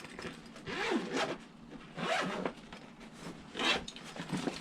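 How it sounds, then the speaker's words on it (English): A zipper runs along a fabric storage bag for RV tire covers in a few quick close pulls, each a short rasping zip separated by brief pauses. "You can zip this nice bag that they include"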